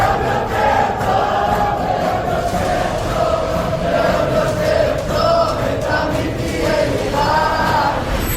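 A large crowd of children, elderly and young people packed into a bunker in Israel, their voices merging into a steady, dense murmur of prayer that holds at an even level throughout.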